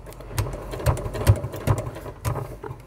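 A sewing machine stitches fabric piping with a piping foot at a shorter stitch length, running in steady rhythmic bursts of needle clatter with regular thumps, close and moderately loud, no talking.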